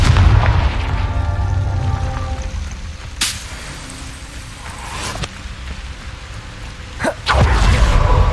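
Confringo fire spell blasts from the Hogwarts Legacy video game: deep booming impacts with a few sharp, bright cracks spaced several seconds apart over a constant low rumble.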